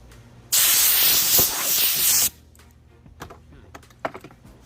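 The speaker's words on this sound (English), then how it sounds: "blow it off a little bit, get my air hose." An air hose blasts dust off a smoothed wooden board in one loud, steady hiss lasting about two seconds, then cuts off, leaving quiet workshop clicks and knocks.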